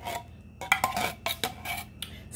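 Condensed cheddar cheese soup being scraped from its can into a slow cooker sloppy joe casserole, producing several short, close metallic scrapes and clinks of a utensil against metal in quick bursts with pauses between, no talking.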